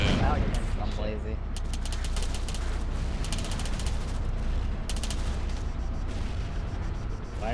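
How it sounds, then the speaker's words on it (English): Dense explosions and gunfire in the Arma 3 video game, with loud continuous battlefield rumble and repeated sharp bursts of shots throughout, alone without talk. "Why is there so many explosions?"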